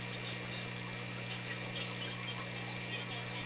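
Aquarium return pump running steadily during a reef tank water change, a constant low hum with a wash of flowing water, moderately quiet and unbroken throughout.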